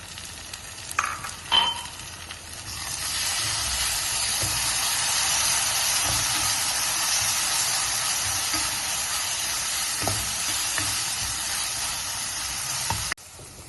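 Mustard seeds, garlic, ginger and curry leaves for a Kerala-style okra curd pachadi hit the hot pan with a few light clinks, then settle into a loud, steady sizzle and hiss.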